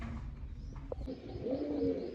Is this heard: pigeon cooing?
yes